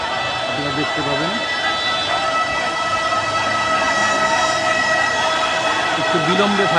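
A fire service vehicle siren wails steadily and loudly, rising and falling as it arrives at a market fire in Narayanganj, with crowd noise and voices throughout.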